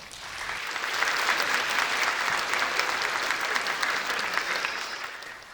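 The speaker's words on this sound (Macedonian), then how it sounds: "Еден голем аплауз за нив ве молам." Audience applause at the Biserchinja children's TV festival, a full hall clapping steadily and warmly, swelling quickly and fading out at the end, with no voices over it.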